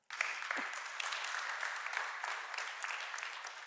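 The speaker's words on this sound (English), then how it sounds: "Let's give her a round of applause" Conference audience applauding steadily after a youth mental health session, a dense even clatter of many hands that fills the room from start to finish with no talk on top.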